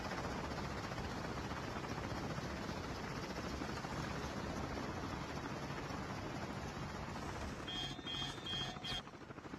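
A helicopter in the mobile shooter Call of Duty Mobile whirs steadily and loudly through the whole stretch, a dense broadband rotor roar that thins slightly near the end as other game sounds cut in.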